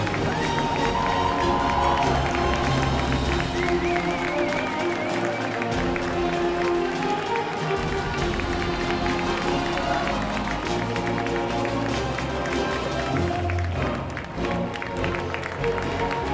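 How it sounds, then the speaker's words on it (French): Audience at a French-language costumed medieval-style show applauds and cheers a tournament winner, a loud, dense and sustained roar of clapping and voices filling the whole stretch with music underneath. "réservez-lui vos plus chaleureux applaudissements"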